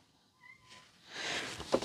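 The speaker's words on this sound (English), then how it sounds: "I have a kitty cat at the door now" At a door, a cat gives a faint, thin meow, followed by a louder noisy rustle or scrape close by.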